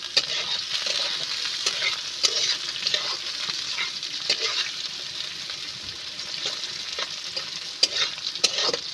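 Green chilies frying in a pan for a vegetarian banana-blossom ghonto, a steady hiss of sizzling oil broken by frequent scraping clicks of a stirring spoon, close and continuous with no talk.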